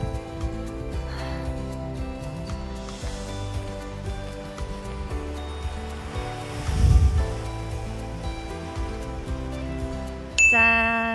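Strong wind blows across the summit of Golche Oreum, a volcanic hill on Jeju, roaring steadily against the microphone in surging gusts with one louder rush partway through.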